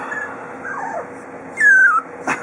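Puppies whimper close by, giving high, thin whines that slide downward, then a sharper yip near the end. The cries come in short bursts with small pauses between them and no voices over them.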